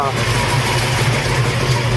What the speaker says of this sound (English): I know idling a vehicle like that puts a lot of wear and tear on the engine itself